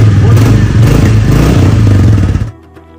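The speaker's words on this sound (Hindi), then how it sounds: "स्टार्ट करके दिखाएंगे एग्जॉस्ट साउंड।" A Royal Enfield Bullet Standard 350, a classic old-style single-cylinder motorcycle, idles loud and close with a steady deep thumping exhaust beat. The sound cuts off abruptly near the end.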